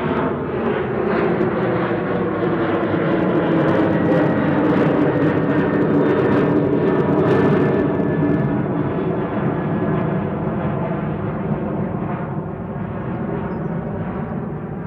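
A Lockheed TriStar at Manchester Airport produces a loud sustained engine roar with sweeping tonal whine that slowly shifts in pitch as it passes, close and continuous, with no voices.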